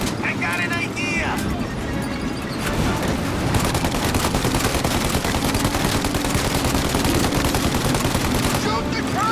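Dense, continuous gunfire in Mafia: Definitive Edition, with rapid machine-gun bursts and booms layered over engine rumble, loud and close, while shouting voices cut in at moments.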